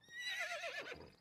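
A horse in an animated cartoon gives one high, wavering whinny that falls in pitch, heard close and alone.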